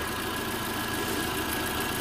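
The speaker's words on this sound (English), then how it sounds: "Engine running" A Toyota 2.5L engine, as fitted to the RAV4, Camry or Scion tC, idles in park with a steady, unbroken hum and no other sounds.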